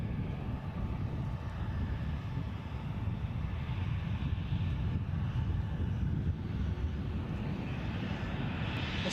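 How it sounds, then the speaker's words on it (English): A Ryanair Boeing 737-800 jet arriving from Budapest at Edinburgh Airport gives a steady, distant low engine rumble and roar that holds evenly throughout, with faint wind noise and no talk. "Right, the Budapest Ryanair 737-800."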